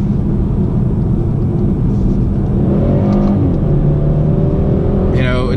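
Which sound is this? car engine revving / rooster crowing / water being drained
car engine revving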